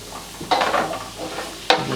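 A spoon stirs pumpkin curry with fried spices in a pan, giving close, soft scraping and sizzling strokes with two sharper scrapes partway through, and no voices.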